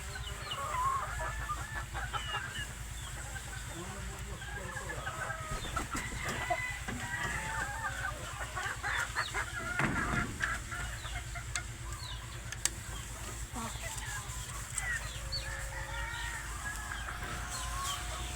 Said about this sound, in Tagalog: Yan po yung aking broodcock